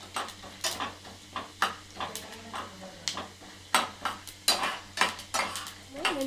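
Cumin and fenugreek seeds fry in a pan for alam chutney, with a steady faint sizzle beneath repeated close metallic scrapes and clinks of a spoon stirring against the pan.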